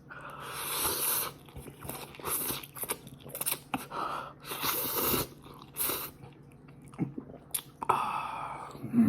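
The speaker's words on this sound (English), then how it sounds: "Let's get it. First bite." Samyang Buldak spicy fire noodles being eaten up close, with wet slurping, squishing chews and intermittent sharper crunchy bites, irregular bursts separated by brief quiet gaps, no talking.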